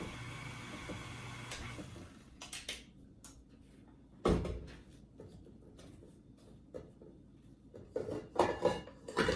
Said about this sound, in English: I'm going to scrape down my butter and sugar.